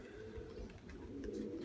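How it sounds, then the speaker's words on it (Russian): A wild pigeon coos in a low, steady murmur outdoors, its soft repeated calls close and continuous for the short stretch. "А, это дикий голубь летит."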